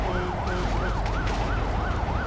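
Ambulance siren in the GTA V video game, a loud rising-and-falling wail that repeats about every third of a second, close and continuous over low traffic rumble.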